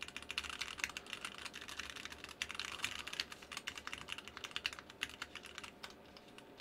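Fast, close typing on an unlubed 60% mechanical keyboard, a dense stream of clacky keystrokes with irregular rhythm that thins out near the end.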